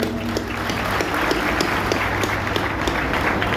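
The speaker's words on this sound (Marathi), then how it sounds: "चला या लवकर, टाळ्या वाजवा जोरदार." Loud, dense applause from a crowd of students and guests at a Marathi felicitation ceremony, a steady wash of clapping that fills the room without letting up.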